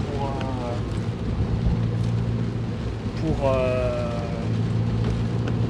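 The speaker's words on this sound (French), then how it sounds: "comme par hasard il pleut" Steady rain patter and road rumble inside a moving Peugeot 106, with a low engine drone throughout and brief tonal sweeps rising near the middle.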